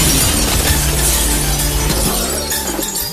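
Something smashes loudly with a burst of crashing, shattering noise, its harsh ringing debris settling over about three seconds.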